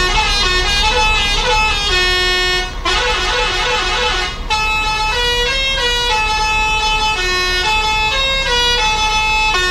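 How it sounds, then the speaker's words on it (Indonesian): A bus telolet horn on a modified bus blares a loud, sustained multi-tone melody up close, its notes shifting in pitch with a short break partway through. "Yuk kita bikin kita nyalakan untuk telolet-nya"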